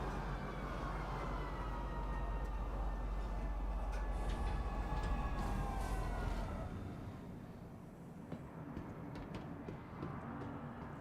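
A metro train pulls into Metro Center station, a loud steady rumble with squealing brake tones that fades as the train slows and stops near the end.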